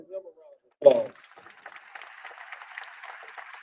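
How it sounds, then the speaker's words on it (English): A brief round of applause at a press conference bursts in after a short pause, then fades into scattered, thinner clapping, with a voice speaking before it. "Give him a round of applause."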